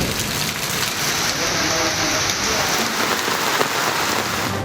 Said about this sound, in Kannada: ರಾಜ್ಯದ ಹಲವೆಡೆ ಎಡಬಿಡದೆ ಸುರಿಯುತ್ತಿರುವ ಮಳೆ ಅವಾಂತರಗಳ ಸರಮಾಲೆಯನ್ನೇ ಸೃಷ್ಟಿಸಿದೆ